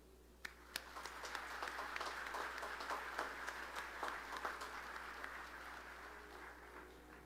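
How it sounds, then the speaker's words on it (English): Round of applause at a college commencement ceremony, a sustained wash of many hands clapping, moderately distant, with a few sharper claps standing out near the start. "please join me in a round of applause for those who sacrificed a lot for us"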